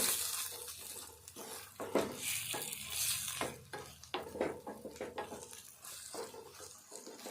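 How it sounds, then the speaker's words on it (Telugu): Eggplant and onion curry being stirred in a pan to keep it from sticking, a steady close scraping and stirring over a soft sizzle, with occasional sharper clinks of the utensil against the pan. "ఇట్లా అడుగంటుకోకుండా ఇట్లా కలుపుకోవాలి."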